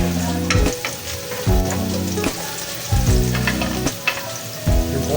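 Onion, garlic and ginger sizzle in oil in a pan for mackerel in turmeric coconut milk, a loud steady frying hiss punctuated by rhythmic scraping stirs roughly every second, with no voices.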